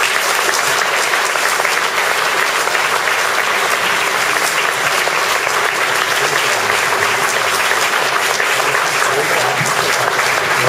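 Sustained applause from an audience at a Brigata Maiella 70th anniversary ceremony in Casoli, welcoming a British army delegation. Dense, even clapping holds steady and loud throughout with no break, and no voice rises above it.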